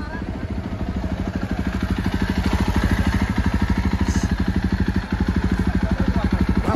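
A Jawa Bobber 42 motorcycle engine runs steadily with a loud, even chugging thump throughout, held close and constant, with voices faintly present under it.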